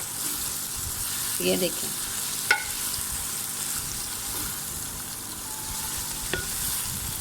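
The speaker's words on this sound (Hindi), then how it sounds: "5 मिनट के लिए फ्राई करनी है।" Ingredients are frying in a pan with a steady close sizzle and occasional stirring clinks, while a voice briefly speaks over it.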